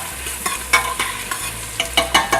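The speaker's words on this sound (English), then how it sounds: "I'm going to stir that" Garlic and a sprinkle of hot peppers are stirred in a hot pan, a continuous close sizzle broken by a string of sharp spoon scrapes and taps against the pan.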